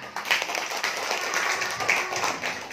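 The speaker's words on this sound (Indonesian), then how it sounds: "Tepuk tangan untuk kita semua." Third-grade schoolchildren and their teacher clap together in a classroom, giving a busy, moderately loud spatter of hand claps with faint voices mixed in.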